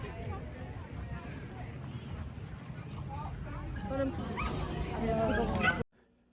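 Dogs yip, whimper and bark at Dogfest, an outdoor dog show, mixed into a busy crowd murmur with people talking nearby; the barking is moderately close and grows livelier before the sound cuts off abruptly.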